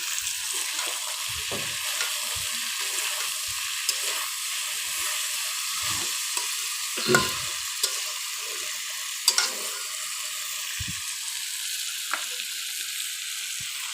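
Taki fish frying in a pan with whole garlic cloves, a continuous bright hiss of hot oil with occasional pops and soft scraping thumps from stirring, close and steady.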